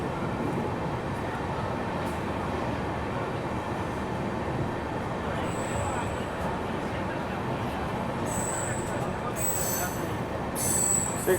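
Steady rumble of the Rewanchal Express train departing Maihar railway station, rolling along the rails, with occasional high metallic wheel squeals toward the end and faint voices underneath.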